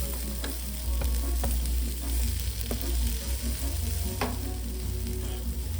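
Onions sizzling on a grill for burgers, a steady close crackling fry with scattered pops and no talking.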